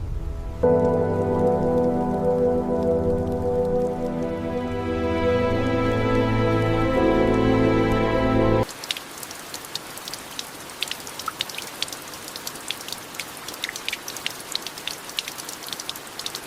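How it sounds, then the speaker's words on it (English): Heavy tropical rain pours down steadily onto cracked earth, with dense patter and scattered drops, following a stretch of sustained music-like tones that end abruptly. "Tropical rains pour onto cracked earth"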